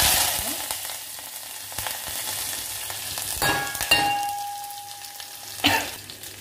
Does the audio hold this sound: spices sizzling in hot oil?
yes